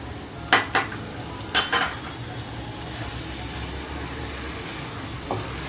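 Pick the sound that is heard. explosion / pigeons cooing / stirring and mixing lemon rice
stirring and mixing lemon rice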